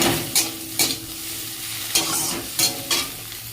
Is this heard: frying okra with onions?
yes